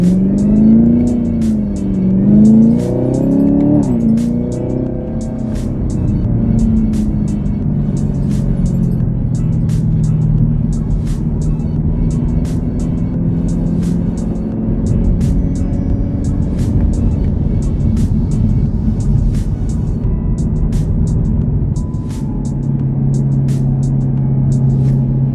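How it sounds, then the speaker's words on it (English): A 2018 Chevrolet Camaro ZL1 on the road, its supercharged engine droning steadily with rising and falling whine as it accelerates and cruises, loud and close from inside the car, with a rhythmic ticking over the engine noise. "Let's take a little bit to just listen to that supercharger whine now."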